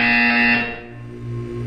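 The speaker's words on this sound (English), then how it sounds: "You will hear a buzzer." A loud electronic buzzer from the video game Portal 2 sounds once in a harsh, steady tone that cuts off after about half a second and leaves a low lingering hum.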